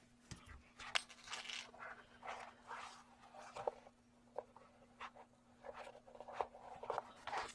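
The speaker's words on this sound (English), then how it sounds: "I'm cutting the slits on each side." Slits are cut into a composition cover, making a run of soft, irregular scraping and snipping bursts, close but quiet, spread across several seconds with no talking.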